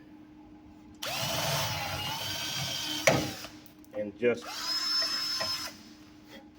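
A power drill whines steadily as a 1/4-inch bit bores out a metal brake line fitting held in a vise, stopping briefly before running again; someone speaks quietly over the drilling.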